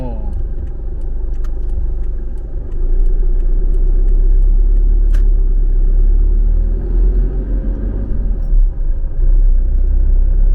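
A car drives along a road in Yang Chum Noi district, Sisaket province, Thailand, in August: a loud, steady engine and tyre rumble throughout, with faint regular ticking early on.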